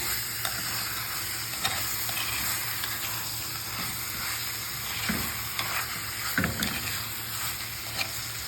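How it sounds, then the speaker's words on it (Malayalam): Chicken frying in a pan while being stirred, a continuous sizzle broken by repeated scraping and knocking strokes of the spoon against the pan. "നല്ലപോലെ ഇളക്കി കൊടുക്കണം."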